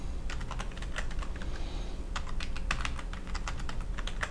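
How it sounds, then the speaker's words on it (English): Someone types a password on a computer keyboard while setting up an email account. The keystrokes come as a quick, steady run of close, crisp clicks with a brief pause midway, and no one speaks. "Now you can type your own password in"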